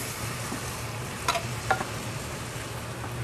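Fish pieces frying in a pan alongside tomatoes, a steady close sizzle with two brief sharp spatters or utensil clicks in the middle.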